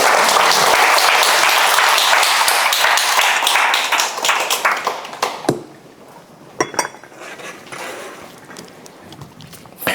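A large audience bursts into loud, dense applause that holds for several seconds and then thins out into a few scattered claps and clinks.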